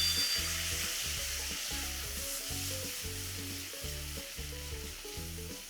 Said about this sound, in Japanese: 全体このようにちょっと沸騰しながら合わさったらよく混ぜて